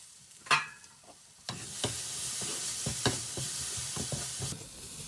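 Vegetables being stirred in a kadhai: a steady sizzle with repeated scraping and knocking strokes of the spatula, close and moderately loud, after a quieter opening with a single clink.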